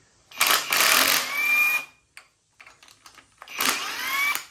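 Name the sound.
removing intake manifold bolts on 1965 Ford big block engine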